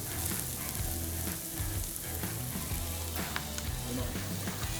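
Chili garlic sauce hitting a hot camp pan outdoors, a continuous dense sizzle and crackle with low rumbling background noise, close and steady throughout, no voices.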